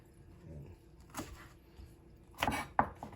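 Chili peppers are chopped with a knife on a board in a few quiet, separate strikes, with a couple of sharper chops close together near the end.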